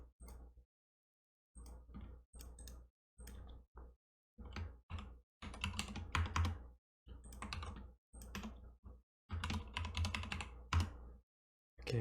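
A computer keyboard is typed on at close range in irregular bursts of rapid key clicks separated by short pauses, with a few single sharp key presses.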